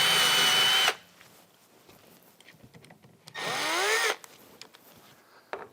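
A power drill backs screws out of a MAG-200 dust collector filter housing in two short bursts of about a second each; the second burst audibly changes speed. Quiet shuffling fills the gaps.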